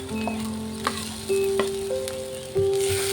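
Ginger-garlic paste frying in oil with softened onion and chopped green chilli, a steady close sizzle with a few faint clinks of utensils, no talk.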